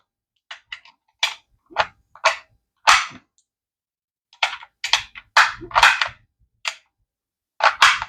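Rifle rounds pressed one by one into a 20-round Global Ordnance AK magazine, giving sharp, close metallic clicks in small clusters separated by short silences, with a clear pause in the middle.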